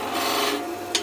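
A half inch skew chisel cuts spinning wood on a lathe, a brief close rasping scrape with a small sharp tick near the end.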